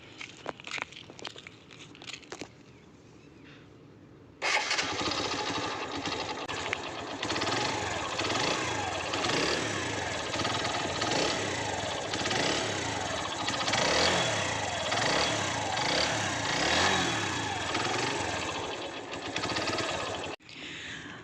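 A 2015 TVS Sport 100cc single-cylinder motorcycle engine starts after a few faint clicks, then idles steadily with a rapid, even putter, close and fairly loud, cutting off at the end.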